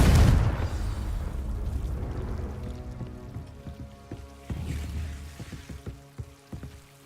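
A Confringo blasting spell in Hogwarts Legacy explodes with a loud, deep boom, then fades into a crackling, pattering rumble of scattering debris.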